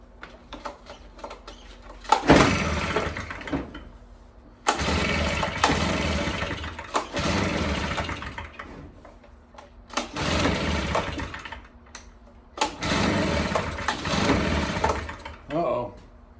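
Stihl BR340 leaf blower engine pulled and catching repeatedly, four loud bursts of sputtering two-stroke running that die out between gaps, close up.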